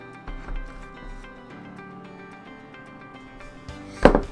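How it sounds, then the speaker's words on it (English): Something scratches zigzag marks into the plastic tabs of a DvC Skull K9 mask for hinging. The scraping is quiet and close, with scattered small strokes, then a sharp louder scrape near the end. "Just kind of doing zigzaggy vertical scratches works fine."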